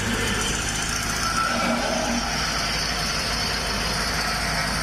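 A Tico car engine powering a portable band sawmill, running steadily with a rough, vibrating idle-like drone that stays constant and close throughout, with no cutting sound evident.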